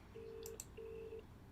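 Quiet telephone dialing tones, a few short beeps followed by two long steady tones separated by a brief gap, heard alone.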